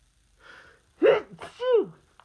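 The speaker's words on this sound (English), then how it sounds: "I'm going to sneeze." A single close sneeze: a quick inhaled gasp building into a sharp burst, followed by a short voiced exhale.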